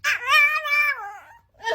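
A dog gives a drawn-out, two-part whining vocalization with a wavering, sing-song pitch that rises and falls, close and fairly loud, followed by a short yip at the end.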